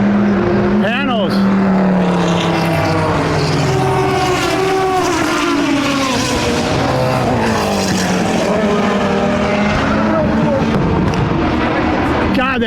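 Classic race car engines fill the Le Mans Classic paddock with a loud, continuous roar, rising and falling in pitch as the cars pass close by, while someone speaks over the noise.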